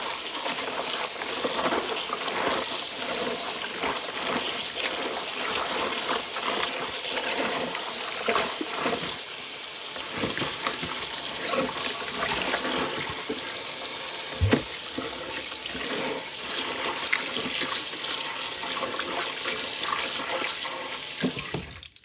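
Tap water runs steadily into a kitchen sink while spinach and lettuce greens are rinsed, a dense continuous splashing rush with brief shifts as leaves are handled, close and loud without talk.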